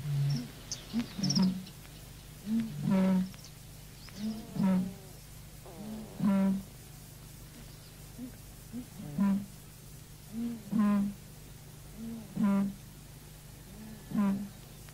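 Deep, booming bittern calls repeat at steady intervals over a low constant hum, each a short resonant pulse, with the series continuing throughout, recorded on the Norfolk Broads.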